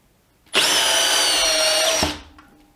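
A cordless drill driving a screw, DEWALT 12V brushless DCD701 against a Milwaukee M12 FPD Gen 2: one loud, close whine held for about a second and a half before it cuts off and winds down, with no talk.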